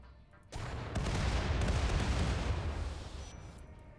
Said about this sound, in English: Okay, barrage incoming.